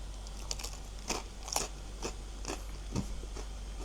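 Crisp bites and crunches into a crispy baked dish from a glass pot, soft and close, repeating at a steady rhythm about every half second with no talk.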